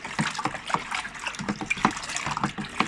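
A spoon stirs homebrew lager liquid with sugar dissolved in it, making close, irregular sloshing and swishing with small clinks of the spoon against the vessel.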